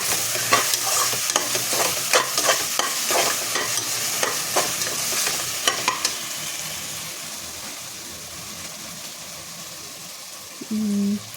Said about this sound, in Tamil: அதையும் போட்டு நல்லா வதக்கிடுங்க நல்லா வதக்கிக்கோங்க அந்த இஞ்சி பூண்டு பேஸ்ட்டு அந்த ஸ்மெல் போகிற அளவுக்கு வதக்கிடுங்க